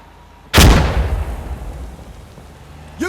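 A frag grenade explodes in the game Insurgency Sandstorm with a sudden loud blast and a long rumbling decay, followed by a brief sharp sound at the end.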